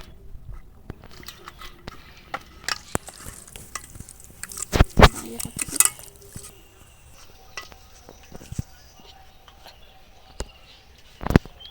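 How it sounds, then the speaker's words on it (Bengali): Hands mix koi fish with spices and mustard oil in a bowl, making irregular wet squelches and slaps, busier in the middle, with brief bits of talk. "এবার সব কিছু একদম খুব ভালো করে মাখিয়ে নেবো"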